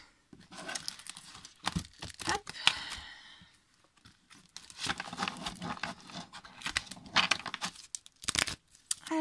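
Oracle cards are shuffled by hand, close up, as a run of crisp papery riffles and flutters in irregular bursts with brief pauses, fairly quiet.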